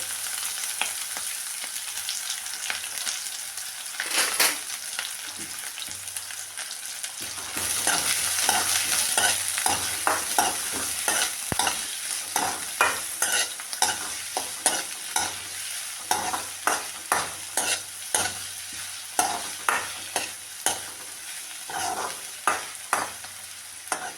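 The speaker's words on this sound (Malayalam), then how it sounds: "കടുക് പൊട്ടിക്കഴിഞ്ഞ് കറിവേപ്പില ഇടാം രണ്ട് സവാളയും രണ്ട് പച്ചമുളകും അതൊന്ന് വാടത്ത്" Curry leaves, onions and green chillies fry in oil after mustard seeds have spluttered, a steady sizzle broken by repeated sharp scrapes of a stirring spoon against the pan, close and clear with no talk.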